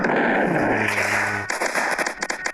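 An explosion in the Roblox game Zombie Attack booms and then breaks into a run of sharp crackling pops, loud and close.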